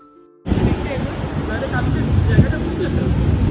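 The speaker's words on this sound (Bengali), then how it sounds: "বাইরেটা আজকে দেখছি বেশ ভালো ঠান্ডা হাওয়া দিচ্ছে" Gusty cold wind outdoors in Berlin buffets the microphone in a loud, continuous roar after a quiet start, with faint voices underneath.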